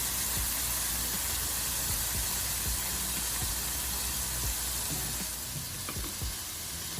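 Handi kebabs being added to well-fried masala, giving a loud, steady sizzle and hiss of frying with occasional soft pops and stirring, with no talk.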